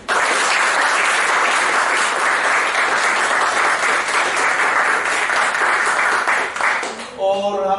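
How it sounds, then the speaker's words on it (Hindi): A hall audience gives loud, sustained applause for a young patient treated for club foot, a thick continuous roar of clapping that eases near the end as a tonal sound briefly cuts in. "तालियां बजाएं"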